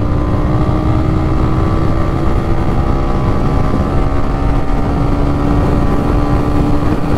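A 2024 Kawasaki W175 motorcycle runs hard under acceleration through the gears, a loud, steady engine drone mixed with heavy rushing wind noise throughout.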